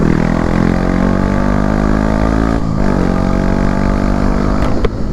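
A motorcycle engine fitted with a new exhaust line roars steadily on a race circuit near a chicane, loud and close, with a brief dip in the middle.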